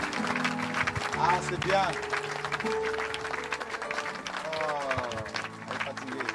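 A church congregation at a baptism service in Evry cheering and applauding, with sustained clapping and raised voices from the crowd throughout, while someone speaks over it.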